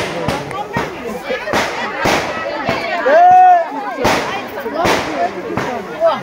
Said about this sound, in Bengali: বাজি ফুটানো শুরু হয়েছে।